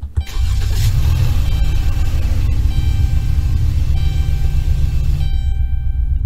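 A budget car in the Roblox Greenville game starts and settles into a steady, loud mid-pitched engine hum. The engine idles evenly for about five seconds and then cuts off.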